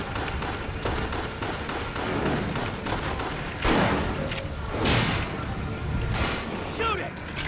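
Rapid gunfire from Resident Evil: The Darkside Chronicles, a steady run of sharp, loud shots spaced close together, with heavier crashing bursts and thuds mixed in over a busy game soundtrack.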